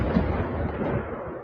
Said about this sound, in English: That nice little explosion. That was a big boom.